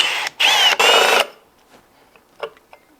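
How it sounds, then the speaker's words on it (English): Power drill boring into a rifle stock during bedding work, two short loud bursts of whirring with brief pauses, then faint clicks and handling noises. "let's get back to drilling this out"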